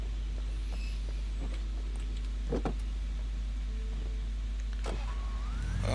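A car being driven in the video game Alan Wake, a steady low engine drone running throughout with a few brief knocks and thumps and a rising whine near the end.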